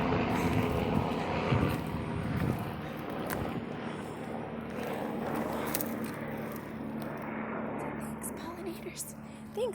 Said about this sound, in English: I'm sorry, there's a helicopter.